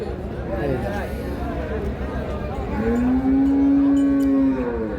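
A Sahiwal Sindhi cow moos loudly and close at a crowded rural cattle market, a long drawn-out low call, with people talking and market chatter underneath.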